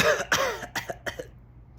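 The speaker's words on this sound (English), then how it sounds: "Smoke filled the room, sputtering and coughing." A series of four or five harsh coughs in quick succession from smoke inhalation, close and fairly loud, trailing off into quiet.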